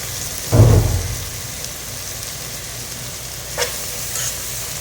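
Tomatoes and biryani masala drop into hot oil in a pressure cooker for camel biryani, giving one loud sizzling burst that fades into a quiet hiss, with a brief fainter flare later.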